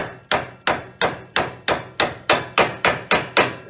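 Ten evenly spaced sharp metallic blows ring out close by, each decaying quickly, as a Hoshizaki pump bearing is driven into place at a vise.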